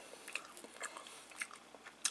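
Someone bites into and chews small injeolmi-flavoured puffed pop snacks from Emart, giving soft, irregular crunches and bites, close and fairly quiet, with no talking.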